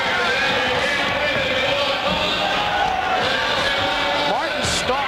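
A loud, restless arena crowd at a 1994 Toughman boxing bout in Detroit's Cobo Arena, a steady roar of jeers and shouting with a commentator talking over it throughout.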